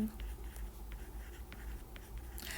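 A teacher writes on a board during a Thai grade 5 math lesson, producing short scratchy strokes in an uneven series over a low room hum, with a faint voice nearby.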